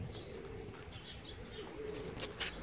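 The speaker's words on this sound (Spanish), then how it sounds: "La paloma está en el techo de atrás." A pigeon on a rooftop coos faintly amid outdoor ambience, with soft chirps and a hint of wing flutter, distant and low in level with no talk.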